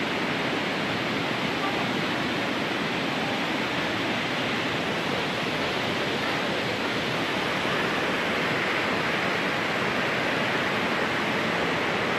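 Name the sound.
river flowing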